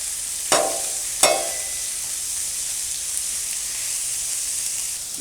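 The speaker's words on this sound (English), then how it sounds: "And we're going to put the steak on." Steak sizzling in oil and butter on a LoCo griddle for a Philly cheesesteak, a steady bright hiss broken by two sharp crackling bursts early on as the meat goes down, no talking.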